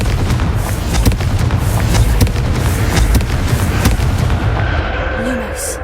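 Repeated booming fire-spell blasts in the fantasy game Hogwarts Legacy, a series of loud sharp explosive cracks over a dense rumbling roar, with a voice calling out between them.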